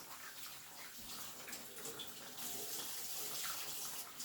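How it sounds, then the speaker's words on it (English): Hands washed under a running tap during a home-brew day, a steady close hiss of flowing water that grows a little fuller halfway through, with no voices. "Wash my hands off here."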